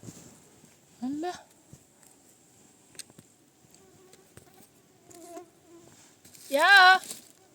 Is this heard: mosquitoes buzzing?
yes